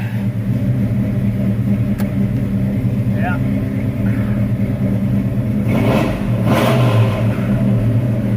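The engine of a 1986 Chevy square-body truck idles with a loud, steady low rumble and swells briefly into a rev, while someone speaks a short word over it.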